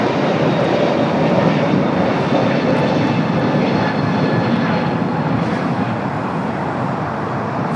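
A Finnair Airbus A350-900 from Helsinki arrives on the south side at LAX, its jet engines a loud, steady roar that holds constant throughout with no voices.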